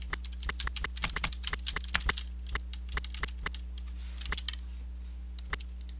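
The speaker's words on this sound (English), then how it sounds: "So now what we're going to do is try typing." Typing on a TKL computer keyboard: a run of sharp, irregular key clicks, close and fairly loud, with a few louder strikes and short pauses over a low steady hum, and no talking.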